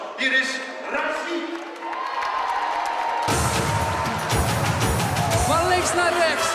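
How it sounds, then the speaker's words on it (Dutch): An audience cheers and claps for Raffi on a Dutch show stage, the applause swelling suddenly into a loud, sustained roar after a host's voice and music. "even een groot applaus"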